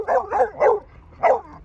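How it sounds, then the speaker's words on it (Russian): A dog with a beagle-like voice barks close by, with three quick barks in a row, a short pause, then one more bark, loud and clear with no talk over it. "А лает как бигль прям."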